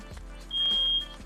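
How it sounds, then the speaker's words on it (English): A fire alarm in the video game Have a Nice Death gives a single steady high electronic beep lasting about half a second over a low game background. "That's a fire alarm."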